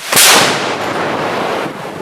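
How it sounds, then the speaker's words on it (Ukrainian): A single heavy artillery boom from guns firing on the Sumy front, sharp onset, followed by a long rumbling roar that stays loud and slowly fades. "гармати з різних позицій починають одночасно навалювати в одну точку"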